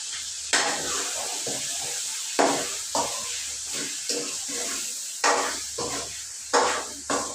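Salt and chilli powder are stirred into a sizzling chicken curry, giving a steady frying hiss broken by repeated scraping strokes of a spoon against the pan, close by and with no talking.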